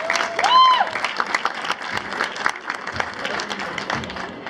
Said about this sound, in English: How about another round of applause for Hall of Famers Ray Evernham, Rick Hendrick, and Jack Gordon.